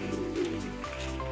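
Pigeons cooing in a loft of barless birds, a steady low murmur of overlapping coos close by, with no talking.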